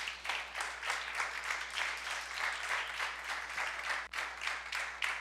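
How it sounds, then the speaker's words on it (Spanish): A church congregation claps in praise, dense continuous applause filling the room at an even level for several seconds with no talk over it. "Denle un aplauso al Señor,"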